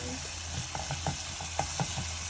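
Onions sizzle and fry steadily in a hot pan, with the brief scrapes and clinks of a spoon stirring them every half second or so, close up, with no talking.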